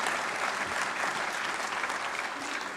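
A crowd at a National Science Day event applauds, a dense, continuous roar of clapping hands that holds at an even, fairly loud level without a break.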